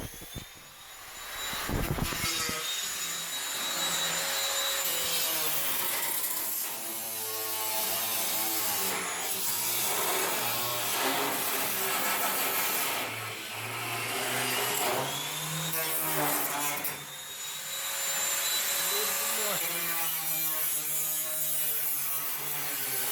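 An angle grinder with a cutting disc slices through the steel quarter panel of a 1969 Dodge Charger, a loud close whining shriek that shifts pitch under load, briefly easing off before biting back in.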